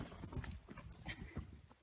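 Faint hoofbeats thud irregularly at a distance, a horse running around its paddock over soft ground.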